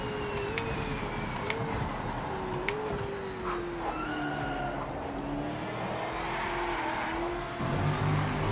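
A GT3 race car in a racing video game drones steadily with a sustained engine tone that rises and falls through gear changes, with occasional tire noise, loud and continuous without talk.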